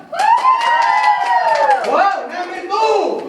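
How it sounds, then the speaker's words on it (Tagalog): A crowd at a child's fourth birthday celebration in the Philippines claps and shouts together, loud sustained yelling and whoops over scattered clapping, rising and falling across a few seconds. "Palakpak na may sigaw, number 1!"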